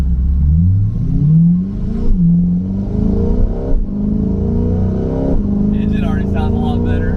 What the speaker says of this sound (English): Engine already sounds a lot better. Sounds way smoother, a lot happier